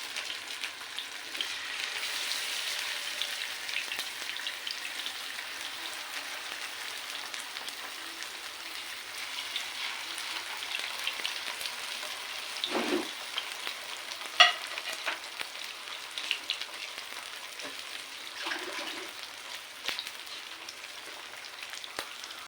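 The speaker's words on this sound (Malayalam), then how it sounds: "മീൻ വെച്ച് കൊടുക്കാം" Fish frying in green masala on a medium flame, a steady soft sizzle and crackle with a few brief clinks and stirs, faint and unbroken throughout.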